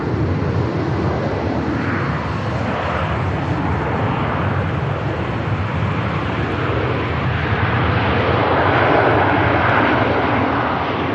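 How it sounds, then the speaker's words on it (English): A Ryanair airliner touches down on the runway at Manchester Airport with a loud, sustained broadband jet roar that swells slightly toward the end. No voices are heard. "Nice touchdown from the Ryanair. Bit of a bounce."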